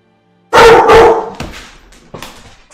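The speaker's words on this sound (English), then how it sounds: "Sorry, this is my dogs." A pet dog barks loudly and close by after a moment of silence, one strong bark followed by a few shorter, quieter yips and barks.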